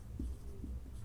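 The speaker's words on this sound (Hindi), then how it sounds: "मैं यहाँ लिख देता हूँ" Chalk or marker writing on a classroom board during a chemistry lesson, a few short scratchy strokes close by over a steady low background hum.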